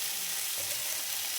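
Neem leaves and eggplant fry in a pan with a steady, soft sizzle and crackle, close and continuous, with no voices.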